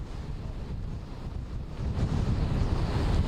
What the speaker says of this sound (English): that wind definitely picking up